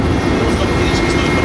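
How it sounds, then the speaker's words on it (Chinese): A helicopter carrying Russia's defence minister flies toward occupied Mariupol, Ukraine, giving a steady, continuous rotor and engine roar that fills the whole stretch while a voice talks over it. "俄罗斯国防部长肖伊古搭上直升机前往乌克兰被俄罗斯占领的马里乌波尔"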